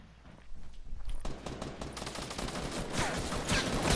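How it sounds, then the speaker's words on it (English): Gunfire in the Fortnite video game, a rapid string of sharp shots rising out of a quiet start and growing louder and denser toward the end, with no talking. "we're being sniped at"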